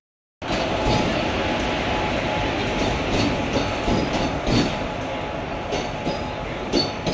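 A passenger train stands at a railway platform, heard from on board as a loud, steady rumble and hum with faint clatter and scattered knocks throughout, voices barely audible.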